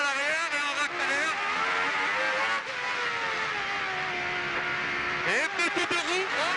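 A Renault Espace F1 with its engine mounted behind the occupants accelerates through the gears. A loud, high-pitched engine scream rises and shifts across several gear changes, then drops off and climbs again near the end.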